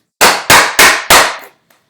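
Four sharp, evenly spaced mallet blows drive a chisel into a knife line to chop waste wood during bookcase joinery, each strike loud and close with a short ringing decay, then silence.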